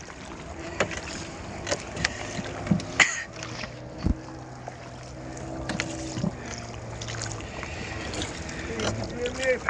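A boat cruises on the sea off Patenga beach, its low engine drone and wind noise running steadily while people talk nearby and water knocks against the hull.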